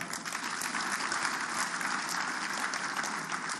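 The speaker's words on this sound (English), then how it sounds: "I think you should clap for him." An audience claps steadily, a dense even wash of applause from many hands, sustained without pause.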